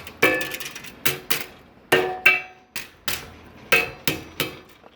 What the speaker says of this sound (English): I just take my hammer and flatten this out